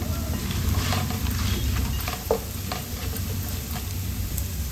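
Grated coconut frying in a pan for a semolina sweet, a continuous close sizzle with soft scraping stirs and one brief clink of the spoon against the pan, no talking.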